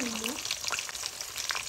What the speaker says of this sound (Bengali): এবার ফুলকপি আলুটাকে আমি হালকা গরম করে ভেজে নেব।